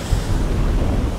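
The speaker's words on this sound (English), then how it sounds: "Listening to the wind howling and waves breaking around the boat is scary when you're not able to see anything." Strong wind and breaking waves roar around a sailboat in a North Sea winter storm, blowing at 35 to 40 knots. The sound is a brief, loud, continuous rumble with heavy low-end buffeting.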